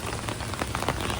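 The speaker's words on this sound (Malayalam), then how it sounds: "മഴ വീണ്ടും തുടർന്നു" Rain falls at Kolkata railway station in a dense, steady patter on hard surfaces, close and continuous with no voices.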